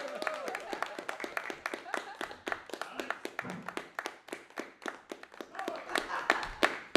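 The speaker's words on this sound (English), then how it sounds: "Big round of applause for that weird guy, Alex Avery, ladies and gentlemen." Clapping from a comedy club crowd for a geek-themed stand-up comedian, a moderate run of scattered hand claps under a host's voice, fairly quiet overall.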